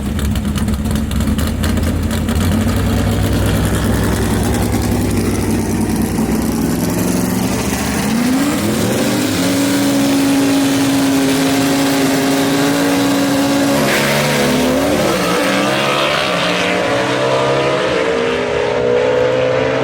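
Barracuda gasser drag car with a 383 cubic inch Lamar Walden race engine idles and burbles at the strip, then revs hard and roars off with rising, loud engine howl and gear changes, joined by a second racing engine.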